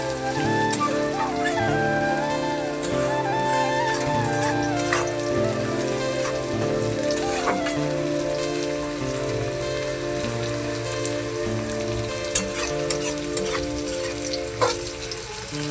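Onions sizzle steadily in a pan as they fry for ghugni, with occasional stirring scrapes and tonal background music playing throughout.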